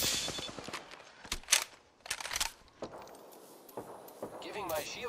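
Video game gunfire: scattered bursts of shots, some rapid and loud, others distant and faint, with gaps between volleys and a person talking over parts of it.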